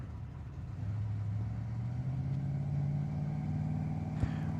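Drag strip launch between a 2012 Mustang and an Oldsmobile Omega with a 350 cubic inch Chevrolet engine: a steady, loud engine drone that rises in pitch as it revs, with a brief sharp pop near the end.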